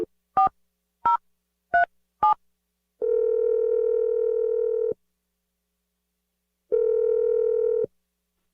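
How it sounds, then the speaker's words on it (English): Four short touch-tone beeps of a telephone dialing a number for a morning radio show call, followed by two long steady ringback tones separated by a pause, clear and alone with no talk. "We're going to dial his number right now, okay?"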